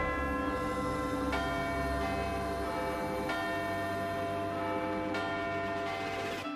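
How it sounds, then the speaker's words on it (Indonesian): Big Ben's great tower bell in London rings in long, loud, sustained tones. Several strikes sound and hum over one another, with a deep steady resonance under each blow. "Suara lonceng menara dapat terdengar dalam radius 8 km."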